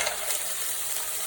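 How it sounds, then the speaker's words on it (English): Steady, close sizzling hiss of food frying in a hot pan for a mussel omelette, even and unbroken. "So I can hear that sizzling."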